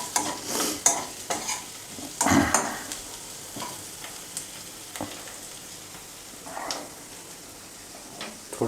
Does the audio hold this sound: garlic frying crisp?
yes